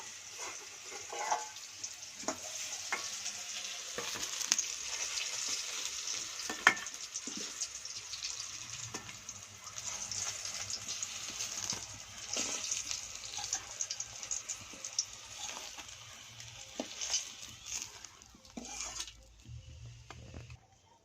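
Eggplant pieces fry in a wok with a soft, steady sizzle that lasts about twenty seconds, broken by occasional light clicks of stirring.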